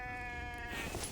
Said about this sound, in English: Is that another sheep?